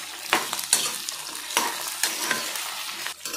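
Eggplant sautéing in oil in a pan, soft sizzling under a series of distinct scraping stirs, faint and close.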